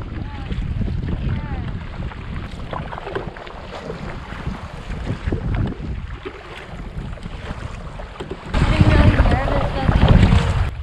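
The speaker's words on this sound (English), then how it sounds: "Like crazy wind, huge waves." Strong wind roars and large waves crash around a boat at sea during a night thunderstorm, a loud continuous buffeting and sloshing that surges louder near the end, with people talking over it.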